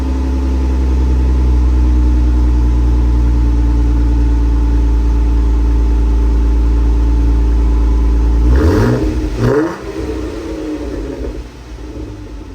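A Jeep engine with a new exhaust rumbles loud and close with a steady deep drone, then revs briefly up and down before settling to a lower idle.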